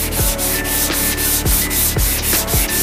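Hand sanding of primer on a Mitsubishi Evo 9 wide front wing, steady rhythmic back-and-forth rubbing strokes, close and fairly loud with regular repeating passes and no talk.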